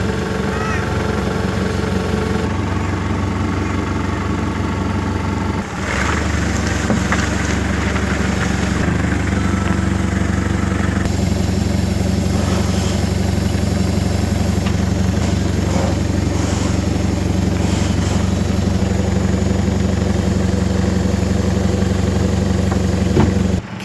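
A boat's outboard motor runs steadily throughout, a loud, close, continuous mid-pitched engine drone with a slight change in tone partway through and no talking over it.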